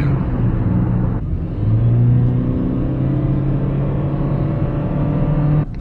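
A Toyota Aqua hybrid car accelerates from inside the cabin, a steady low engine and motor drone with a rising tonal whine, continuous and fairly loud throughout.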